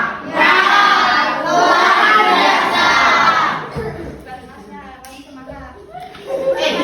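Classroom of schoolchildren shouting a loud group cheer with clapping, a dense burst of young voices for several seconds before an adult speaks over the quieter room.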